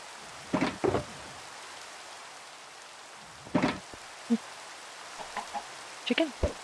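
Minecraft chickens clucking in a handful of short, sparse bursts spread across a quiet game soundscape, moderately loud against a low background hiss.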